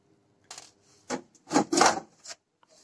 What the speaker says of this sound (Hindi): फिर साइड पैनल को स्लाइड करके ओपन कर लेंगे हम।